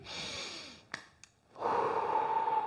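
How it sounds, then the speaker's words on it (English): A deep, slow breath drawn in and let out, close and soft, with a couple of brief catches between the inhale and the long breathy exhale. "Big deep breath in."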